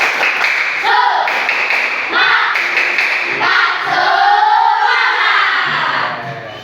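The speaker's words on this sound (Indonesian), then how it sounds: "Siap, tepuk semangat." A school class chanting and clapping the rhythmic 'tepuk semangat' cheer together in an Islamic studies lesson, loud group claps falling in patterned bursts with children's voices shouting along in unison.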